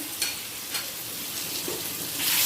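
Spices, dried red chilli, panch phoron and half a spoon of ginger paste sizzling steadily in hot oil for a potato curry, a close, continuous frying hiss with light stirring and no talking.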